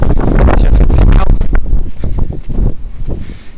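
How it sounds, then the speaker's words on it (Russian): Strong, gusting wind buffets the microphone on open river ice at a Volga water intake in Kazan during winter fishing, a loud steady roar that eases slightly toward the end. "Ветрище, конечно"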